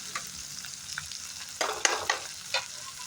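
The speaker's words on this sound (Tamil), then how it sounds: "வெங்காயத்தை வதக்கி விட்டு சுண்டைக்காயும் போட்டு அதோடய வதக்கிடுவேன்" Onions and turkey berries sautéing in a pan, a soft steady sizzle with a few scraping stirs, close and quiet, no talking.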